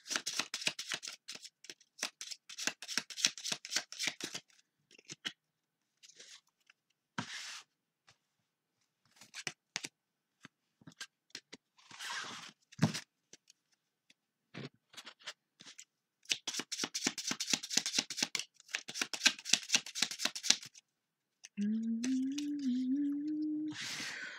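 Tarot cards are shuffled and riffled by hand for a reading in quick repeated bursts of dense crisp flicking with brief pauses, close and fairly quiet, ending in a short hummed tone.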